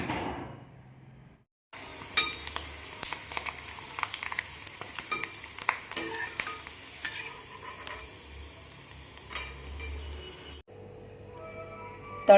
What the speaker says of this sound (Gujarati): તળાઈને તૈયાર થઈ ગઈ છે સાબુદાણા ટમેટાની આ વેફર